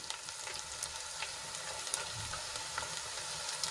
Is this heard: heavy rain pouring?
no